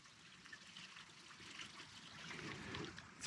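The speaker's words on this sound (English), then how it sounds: "This little tiny, it's just a little drainage creek" A small outdoor drainage creek trickles in a steady, soft babble of running water that swells slightly toward the end, with no voices.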